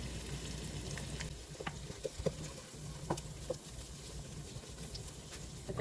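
Tomato paste sizzles and spatters steadily in a hot pan while meatball pasta is being made, with scattered crackles and a soft stirring scrape, close and continuous, no voices.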